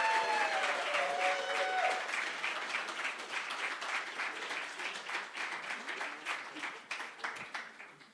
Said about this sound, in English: let's clap for her and give her a warm welcome